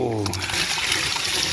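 Dirty water from carpet cleaning splashes out in a steady, loud pour, a continuous rushing gush close by that lasts the whole moment, with a brief voice at the very start.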